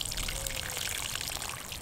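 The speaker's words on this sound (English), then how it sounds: "So ideally we'll be able to water" Water mixed with fish fertilizer pours steadily into a grow bag on a self-wicking watering setup, giving a continuous close, rushing trickle from start to end.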